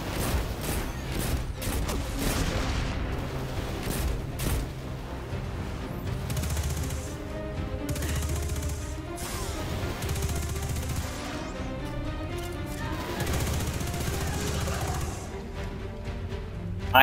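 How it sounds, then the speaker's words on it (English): Continuous heavy hand cannon gunfire in Destiny 2, rapid repeated shots and booms, dense and loud throughout, like an intense video game firefight. "Oh yeah, the hand cannon."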